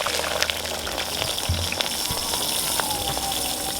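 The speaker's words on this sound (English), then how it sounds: "So now our oil is hot. Our oil is hot. We are adding in the onions" Onions dropped into hot oil for a cassava-leaf and bean-flour dish, a loud, steady crackling sizzle close up with a few low thumps.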